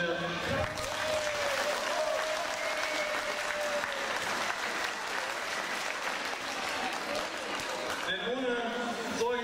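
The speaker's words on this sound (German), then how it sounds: "Also ich finde auch Applaus wert." An outdoor crowd at a world-record tractor convoy event claps steadily and fairly loudly for several seconds, while a voice carries on over the applause.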